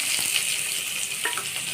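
Onion and cumin seeds fry in hot oil in a village kitchen, giving a continuous close sizzle with a few brief clinks of a utensil and no talking.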